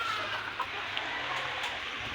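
Chickens cluck softly in the background, scattered short calls over a steady outdoor hiss.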